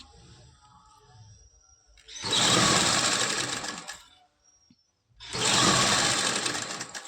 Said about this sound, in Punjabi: ਆਪਾਂ ਲੈਸ ਦੇ ਉੱਪਰ ਮਸ਼ੀਨ ਚਲਾਉਣੀ ਹੈਗੀ